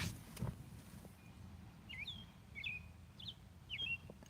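Outdoors, a small bird chirps in several quick, thin, high calls spaced about half a second apart over a low rumble of background noise.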